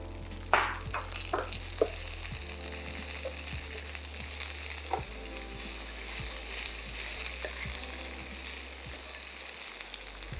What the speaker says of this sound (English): Once I added my chili, there, in go my beans.